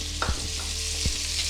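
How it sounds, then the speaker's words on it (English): Onions sweat in bacon grease as a spoon stirs them, scraping across the pan bottom a few times over a continuous close sizzle, with no voices. "as I stir it and as these onions begin to sweat"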